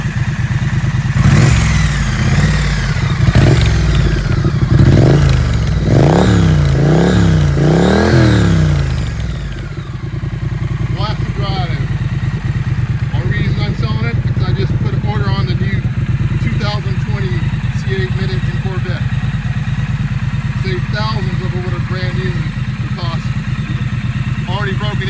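A 2019 Triumph Street Twin motorcycle engine revs in several rising and falling bursts, then settles into a steady, close idle rumble while someone talks over it.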